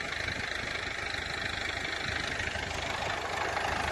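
Kata KE 504 tractor engine idling out on a freshly ploughed field, a steady, unbroken mechanical drone with a faint knocking texture, heard close and alone with no talk.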